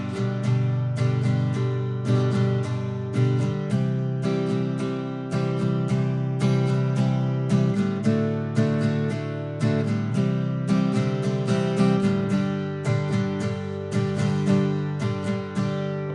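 An acoustic guitar is strummed in a steady, syncopated rhythm, chords changing every few beats, played close and clearly with no voices.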